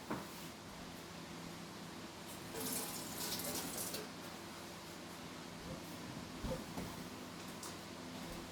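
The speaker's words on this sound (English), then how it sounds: "let me wash this hand" Tap water runs steadily while a hand is washed, a soft continuous splashing stream that swells briefly midway and sits at a low level over a quiet room hum.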